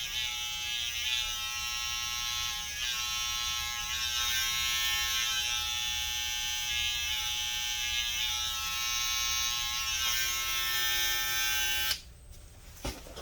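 Electric hair clippers lining up a taper haircut buzz steadily and close for about twelve seconds, then cut off abruptly.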